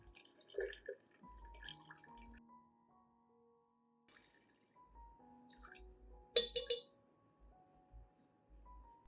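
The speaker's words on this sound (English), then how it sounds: "use a strainer to remove onion pulp" Water from soaked onion being poured through a kitchen strainer, with soft trickling and dripping, a few light clinks of the strainer and container, and one sharper clatter partway through; no talking.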